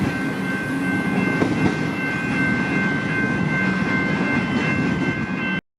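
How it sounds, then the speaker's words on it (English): An X-type train rumbles past at the Glen Huntly tram square on Melbourne's Frankston line, a loud, steady close roar of wheels on rail with faint clicking, cutting off abruptly at the end. "X-type going through the Glen Huntly tram square."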